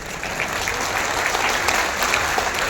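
An audience at a Jan Suraaj political meeting breaks into steady, continuous applause, a dense, even patter of many hands heard alone at moderate volume.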